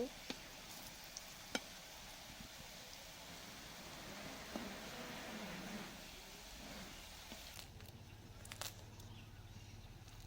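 Puli pithas, Bangladeshi rice cakes, frying in oil over a low flame give a steady, soft sizzle with faint crackles, broken by a few sharp clicks and bumps of utensils.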